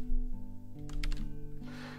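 Keys tapped on a computer keyboard in a short cluster of quick clicks near the middle, over a steady tonal background hum.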